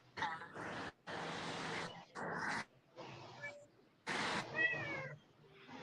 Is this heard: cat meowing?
yes